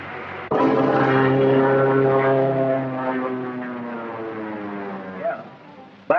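A two-seater biplane engine drones loudly in an old film soundtrack, a sustained propeller hum that starts suddenly, holds steady, then fades and shifts in pitch as it recedes.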